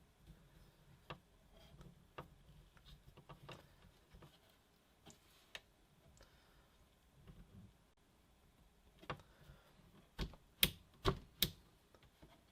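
Faint, sparse clicks and ticks from screws being tightened down to torque while a PC is assembled for a video editing workstation, scattered irregularly at first and then growing into several sharper, louder snaps near the end.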